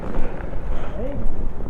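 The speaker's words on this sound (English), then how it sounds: "This wind's crazy." Strong wind gusting outdoors around scooter riders exploring abandoned places, a loud steady roar buffeting the microphone, with voices and a brief snatch of talk faintly under it.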